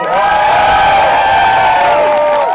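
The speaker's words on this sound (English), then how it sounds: "give a round of applause for the fighter, the Mayor London Breed" A crowd cheers and applauds for San Francisco Mayor London Breed at the 2021 Bay Area Party for Housing, a loud, steady roar of whoops and shouts carrying through the whole stretch.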